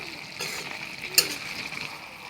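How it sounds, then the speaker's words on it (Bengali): Chicken pieces sizzle in a pan as they are stirred and fried down with salt, a soft continuous frying hiss broken by a few scraping strokes of a spoon, heard close and alone. "নাড়াচাড়া করে নেব আর আমি দশ মিনিট এভাবে মাংসটাকে কষিয়ে নেব"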